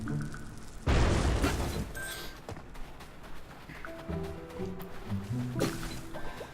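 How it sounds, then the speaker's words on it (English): A bomb goes off in the Oceanhorn adventure game: one sharp, loud blast that decays into rumbling debris, followed by quieter game effects and soft melodic background music. "let's try bombing this"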